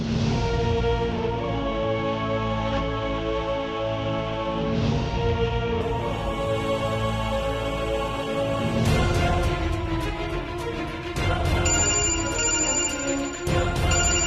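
A melodic phone ringtone plays loudly and continuously, its tune repeating with layered electronic tones and no voices over it.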